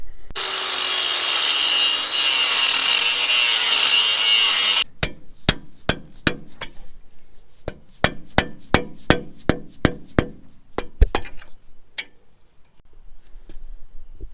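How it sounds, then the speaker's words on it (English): Axle being cut on a lifted 2005-or-later Ford F150: a harsh, steady power-tool cutting noise for several seconds, then stops, followed by a run of sharp, irregular metallic knocks and strikes. "All right, let's start cutting."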